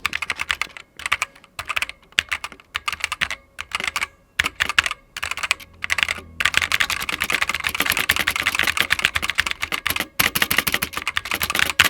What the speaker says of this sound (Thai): นี่คือเสียงของเจ้าคีย์บอร์ดตัวนี้นะครับ